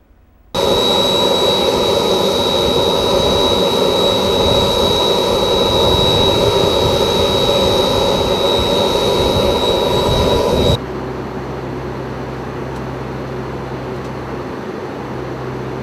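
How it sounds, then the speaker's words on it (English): Jet engines of a NOAA G4 aircraft in flight during a hurricane mission, a loud steady broadband roar with a high whine that cuts down to a lower, quieter cabin drone near the end. "I caught a ride on the NOAA G4 jet."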